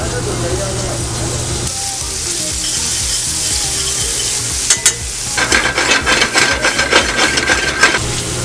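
Bacon frying in a pan for pulled pork, with a loud steady sizzle broken by scraping, stirring and rasping sounds toward the end.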